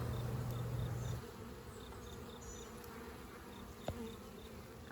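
Honey bees buzzing around an open hive brood box, a steady close drone with a louder low hum at first, then a thinner continuous buzz with a single brief knock.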